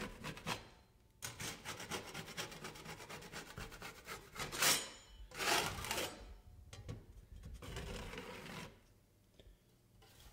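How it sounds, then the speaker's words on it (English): Taping knife scraping along metal drywall corner bead on a wall corner, repeated rasping strokes of varying length separated by brief pauses, close and fairly quiet. "take the taping knife and scrape the corner bead on the corner of the wall"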